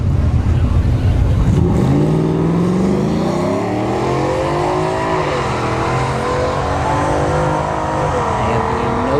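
A Ford F-150 and a 9th or 10th gen Honda Civic launch side by side at ShowTime Dragstrip, engines revving loudly and climbing through gear shifts as they pull away, a continuous roar that stays strong to the end.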